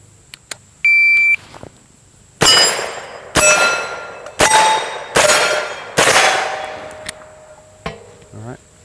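A short electronic shot timer buzzer beep sounds, then four loud metallic gunshot clangs from a Windham Weaponry 9mm carbine striking targets ring out in quick succession, each decaying, followed by quieter clicks.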